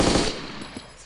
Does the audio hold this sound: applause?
no